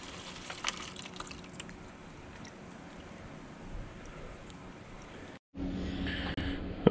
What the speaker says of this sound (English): Let me rinse it out with a little bit of gas